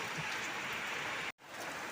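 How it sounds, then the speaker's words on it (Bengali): Heavy rain falls in a steady dense hiss, with a brief dropout of sound partway through before the downpour resumes. "এত বৃষ্টি হচ্ছে কি বলবো"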